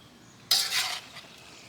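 Cabbage and haluski are stirred in a wok, a brief scraping, clinking burst of utensil against metal lasting about half a second, close and fairly loud, then quiet cooking noise.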